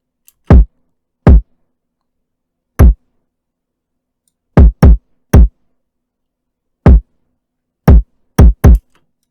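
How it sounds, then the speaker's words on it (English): Isolated electronic kick drum sample hit hard at full velocity, nine deep punchy thumps in a syncopated hip-hop pattern with silence between hits and no other sounds. "Here's the kick by itself."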